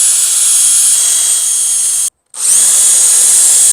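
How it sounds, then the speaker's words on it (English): A power drill bores a pilot hole in an inverter mounting bracket, whining loud and steady at high pitch for about two seconds, stopping briefly, then running again. "I'm going to use a drill to get a pilot hole big enough to use my hole puncher"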